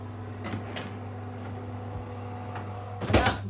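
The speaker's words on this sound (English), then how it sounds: "See if I can show you a shot of putting it in the oven." An oven door is handled as a dish goes into a home oven, with a few faint clicks and bumps over a steady appliance hum and a brief louder clatter near the end.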